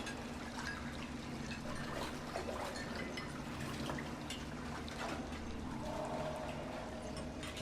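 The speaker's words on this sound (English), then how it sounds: "look at how much water they're wasting with washing the dishes." Water runs steadily as dishes are washed in the kitchen of Little Nightmares, a constant splashing pour with faint clinks, heard close and continuous beneath soft background music.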